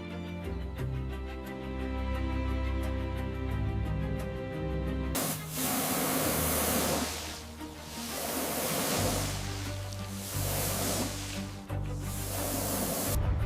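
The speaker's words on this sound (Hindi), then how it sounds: "उस स्प्रे से सानब को कमजोर कर" A spray hisses in long, forceful bursts at a king cobra coiled around a cow during a rescue, loud broadband jets that cut in after a stretch of droning music and continue in pulses.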